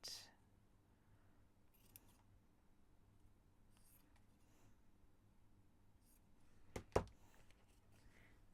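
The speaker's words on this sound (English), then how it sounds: "So I might just snip those down a little bit." Scissors snipping old ribbon and Christmas wrapping material, a few quiet close cuts with a sharper snip near the end, against a faint background.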